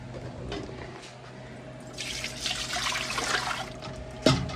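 Apple cider vinegar is poured for a pickling brine, a soft liquid stream flowing for a couple of seconds over a low kitchen hum, ending with a small clunk.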